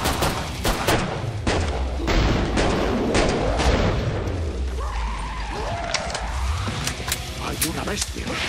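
Rapid gunfire and heavy thuds sound in the Killing Floor 2 video game, with dense, repeated shots and booms under a speaking voice.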